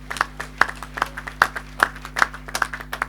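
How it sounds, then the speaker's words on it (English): Applause at a PDP stakeholders meeting in Edo, Nigeria: a steady patter of clapping hands with sharp individual claps standing out over about three seconds, moderately close, with a low constant hum beneath. "So give them a round of applause."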